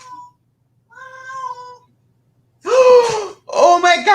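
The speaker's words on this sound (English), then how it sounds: "My cat." A house cat meows twice, the calls short and fairly close, followed by loud human voices talking excitedly.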